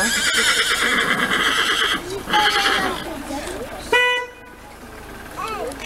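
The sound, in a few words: horses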